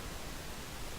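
Synthesized white noise layer used in 808 sound design, a steady, even broadband hiss held at a constant level for the full second with no other sounds.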